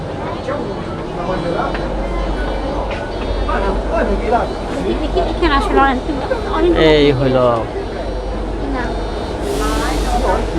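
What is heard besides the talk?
inside a Milan metro train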